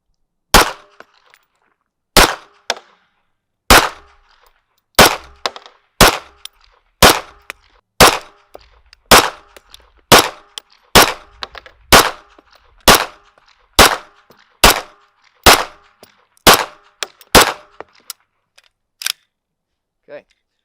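Pistol shots from a 2011-pattern handgun firing steel-cased ammunition, about twenty loud, sharp reports spaced roughly a second apart in a steady string, with short gaps between some pairs.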